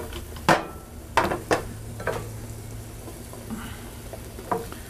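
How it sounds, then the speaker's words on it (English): Mushrooms sauteing in butter in a pan, a low background sizzle with several sharp clatters and scrapes of a utensil early on, then quieter intermittent stirring, close by and without speech. "I'm going to saute these for maybe, I don't know, 2 or 3 minutes, just until they're cooked"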